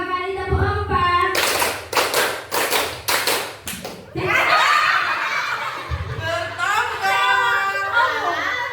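A group claps in a classroom counting exercise, a quick, even run of claps after a spoken cue, followed by laughter and chatter.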